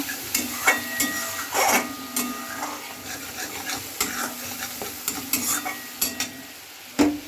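A spoon stirs turmeric into a thick, sizzling ground-mustard paste for Pabda fish curry in a pan, producing repeated scraping strokes with a soft frying hiss under them, fairly close, with no talking.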